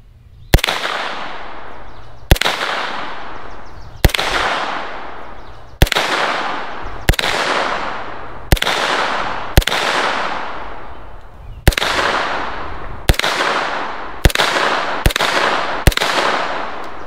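Gunshots from a handgun fitted with an Olight Osight 3 MOA green dot reflex sight during target practice, shooting groups on fine-tuning squares: about eleven sharp, loud reports spaced roughly one to two seconds apart, each trailing into a short echo.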